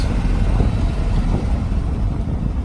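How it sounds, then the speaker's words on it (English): A 1964 Corvette roadster with a 327 cubic-inch 365 hp V8 and four-speed rumbles steadily while driving, its deep exhaust drone filling the low end continuously with road noise and no pauses. "Nice sounding exhaust."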